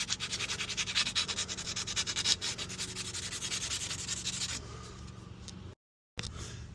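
Corrosion is scrubbed by hand off the wheel hub of an Escort pickup, giving a steady, rapid, rhythmic abrasive rasping close up that stops briefly near the end.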